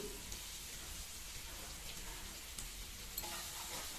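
Onion and garlic frying in a pan, a steady faint sizzle with a dense crackling hiss that holds evenly throughout, broken by a couple of brief clicks.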